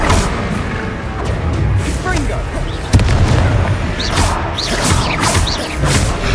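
Booming blasts and crackling bursts from a Confringo fire spell hitting a troll in Hogwarts Legacy, with one sharp impact near the middle, under background game sounds and voices.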